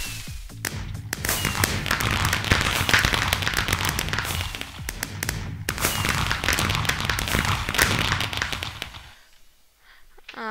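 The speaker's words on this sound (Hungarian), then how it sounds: "Ez a tűzijáték." Fireworks go off in Minecraft during a Hypixel Pixel Painters match, a dense, crackling burst of pops and bangs in two waves before a short quiet gap.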